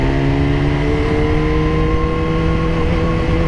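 A BMW S1000RR motorcycle riding slowly in hot traffic, its engine giving a loud, steady drone with a constant harmonic whine throughout, no talking.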